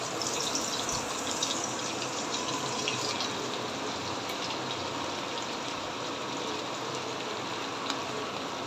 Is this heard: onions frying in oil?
yes